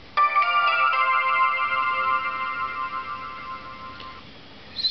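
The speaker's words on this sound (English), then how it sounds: "Logout sound for Chromium OS." Chromium OS logout chime, a bright sequence of quick electronic tones that settles into a sustained ringing chord and fades, clear and alone over faint background hiss.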